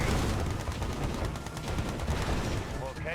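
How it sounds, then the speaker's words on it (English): Chain guns in Command & Conquer: Red Alert 2 Yuri's Revenge fire as a dense, continuous rattle that stays loud throughout, with brief pulses in the din. "this is mostly chain guns"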